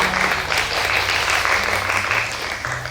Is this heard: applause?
yes